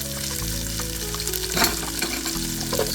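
Onions frying dry in a pot, with no oil added: a loud, continuous sizzle with a crackling burst partway through, over a low steady hum.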